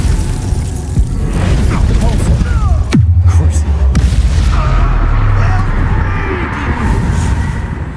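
Spell-casting effects in a wizarding video game fight against poachers: a deep boom lands around three seconds, followed by a sustained rumbling, crackling blast texture over dense game background sound.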